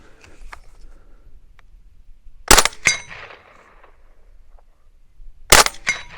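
A suppressed Steyr AUG A3 M1 rifle firing .300 Blackout rounds outdoors, with two pairs of sharp, close reports separated by a few seconds of quiet.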